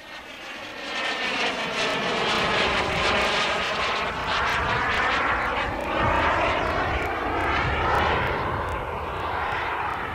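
Radio-controlled model jet aircraft in flight, a steady, fairly loud turbine-like whine with a broad rushing roar that swells and shifts pitch as it passes, continuous for the whole stretch with no voices.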